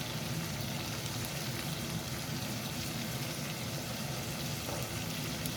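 Tamban fish sautéing with salt and black pepper in a hot pan, giving a steady, dense sizzle and crackle throughout, close and continuous with no break.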